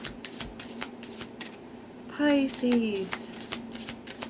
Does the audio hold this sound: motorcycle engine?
no